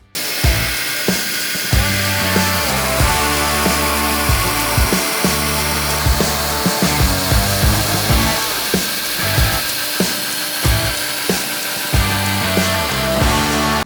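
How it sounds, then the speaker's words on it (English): A metal bandsaw cutting through hard G10 sheet for a full-tang chef knife handle, a steady loud whining drone with gritty rasping and small repeated thumps, close and continuous with no talking. "why don't you cut it on the wood bandsaw but on the metal bandsaw?"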